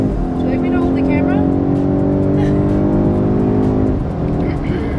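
An SUV engine with a newly unlocked tune revs loud and close, a sustained roaring drone that climbs in pitch over several seconds, then drops off sharply near the end while people talk excitedly over it.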